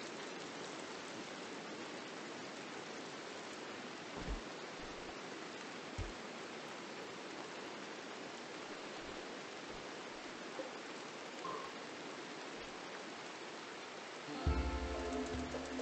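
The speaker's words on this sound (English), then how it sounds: "Good news is, it's raining." Steady, dense video game rain hiss throughout, with a few soft low thumps, ending in a louder rumbling patter near the end.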